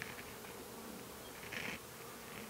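A steady, dense buzz of many honey bees swarming close by, swelling briefly louder midway.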